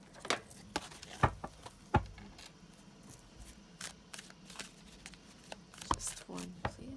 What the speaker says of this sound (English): I'm going to shuffle for 1.